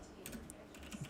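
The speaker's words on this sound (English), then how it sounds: "So you just type in git" Someone types a git command on a computer keyboard, a quick burst of soft, close key clicks with no talking.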